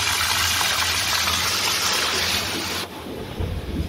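Water gushes steadily and loudly from a tanker being emptied, a broad continuous rushing roar that drops suddenly near the end, leaving a lower wash with some rumble.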